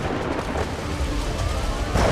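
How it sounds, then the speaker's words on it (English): A massive tropical thunderstorm over the Amazon rainforest, with heavy rain hissing steadily and deep thunder rumbling close by, swelling louder near the end, with no voices. "A massive tropical thunderstorm is building in the skies above them"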